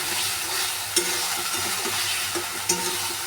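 Spice paste being fried and stirred in a pan for a Bengali dish, a steady close sizzle with a few sharp clinks of the spoon against the pan.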